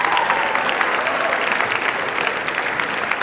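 A high school audience at a comedy hypnotist show applauds steadily, a dense, even wash of clapping across the whole short stretch with no pauses.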